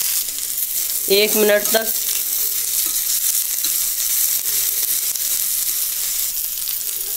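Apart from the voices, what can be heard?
chopped capsicum frying lightly in a pan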